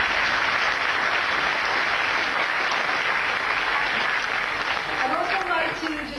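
A crowd at an outdoor ground-breaking press conference applauds with thick, continuous clapping that stays loud for several seconds before thinning out, while a faint voice or tone emerges near the end.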